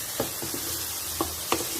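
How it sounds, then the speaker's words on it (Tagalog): Green peas sautéing lightly in a pan give a soft, steady sizzle broken by a few faint stirring clicks, close by and quiet, with no talking. "Medyo gisahin natin ng bahagya yung green peas, guys."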